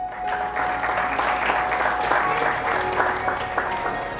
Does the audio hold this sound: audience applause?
yes